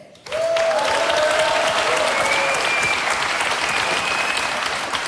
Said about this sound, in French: On applaudit Amaury Vassili, le plus jeune ténor au monde, s'il vous plaît.